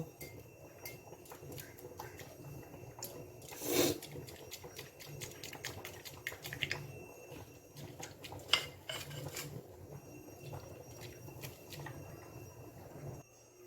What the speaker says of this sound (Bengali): কাঁচা যে ডিমটা ছিল তাতে খুব সামান্য পরিমাণে নুন অ্যাড করে ডিমটা ফেটিয়ে নেব